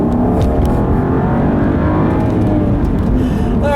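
A 2015 BMW 535i xDrive M Sport drives steadily with a continuous, fairly loud engine drone and road hum from inside the cabin, no talking.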